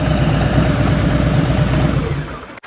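Motorcycle engine held at a steady, healthy RPM, a continuous close mid-low drone running smoothly and evenly before cutting off abruptly at the end.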